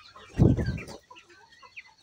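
A single close, short burst of chicken clucking, followed by quiet background with faint chirps.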